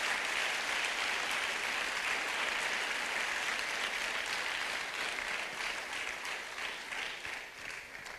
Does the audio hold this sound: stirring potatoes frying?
no